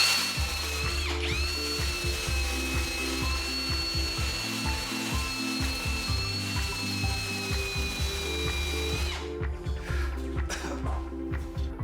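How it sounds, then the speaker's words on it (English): A wire wheel strips old glue and rust from the metal edge of a delaminated snowboard, a loud continuous whirring grind with rattling contact that runs about nine seconds, then stops and leaves scattered clatter. "I'm going to take a wire wheel and get all of the old glue and maybe some of the rust"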